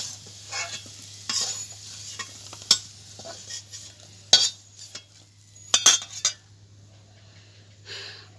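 Potatoes fry in a pan while a utensil stirs and scrapes them in irregular clicks and bursts over a soft sizzle and a steady low hum.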